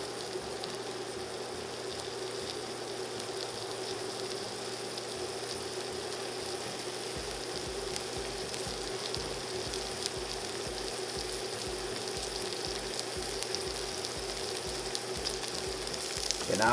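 Mushrooms sizzling in a tablespoon of olive oil in a pan, a steady crackling hiss that holds for the whole stretch with a low rhythmic thump underneath, close and continuous, no voices.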